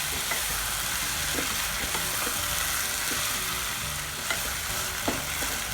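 Green peas sauté in a hot pan with tomato, ginger and garlic for a green peas masala, giving a steady close sizzle with scattered stirring scrapes and clicks of a spoon, and no talking.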